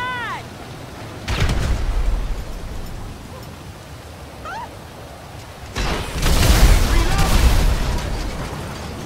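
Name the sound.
vehicle explosion in Grand Theft Auto V, video game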